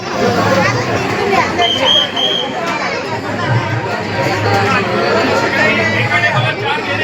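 Dense crowd chatter at a temple festival for Datta Jayanti at Shri Navnath temple in Panvel, a steady loud hubbub of many overlapping voices throughout.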